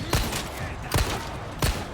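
Gunshots ring out in the video game Resident Evil 4, three sharp loud bursts spaced roughly evenly apart over a steady background of game ambience.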